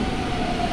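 A metro train arrives at a station in Brazil, producing a steady, close rumble with a thin sustained whine running over it for the whole short moment.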